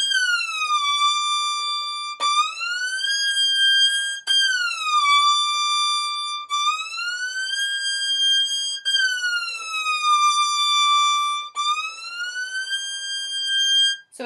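A violin glissando slides smoothly like a siren, rising and falling repeatedly, sustained and clear, with brief breaks at each bow change between long sweeps.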